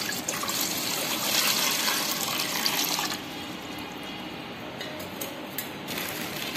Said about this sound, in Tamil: ஒரு லிட்டர் அளவு தண்ணி ஊற்றிக்கலாங்க.